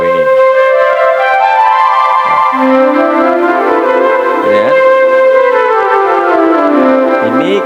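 A classic flute voice on an electronic keyboard plays a flowing melody of sustained, breathy tones with gliding pitch, clear and steady, with a brief word spoken at the end.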